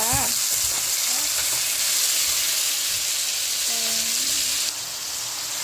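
Spinach hits a hot pan with a little water and sizzles in a loud, steady hiss, with a voice and some stirring heard briefly over the frying.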